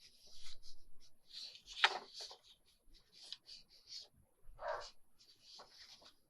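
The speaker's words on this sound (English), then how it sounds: "Can you hear my dog upstairs? Something is going on." Muffled barking from a dog upstairs, a few scattered yips and woofs, faint beneath close rustling and scratching.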